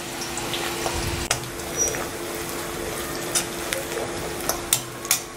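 Two large finely chopped onions fry in a pan for Chettinad chicken chukka, a steady sizzle with occasional stirring clinks.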